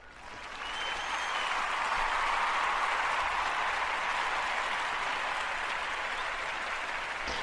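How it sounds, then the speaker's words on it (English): Sustained applause from many hands, a dense steady wash that swells in over the first second and holds evenly for several seconds with no talk over it. "here's a clap for you"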